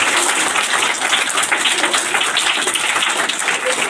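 An audience at a motivational speech event gives loud, dense applause welcoming a doctor, a continuous wash of many hands clapping close and steady throughout.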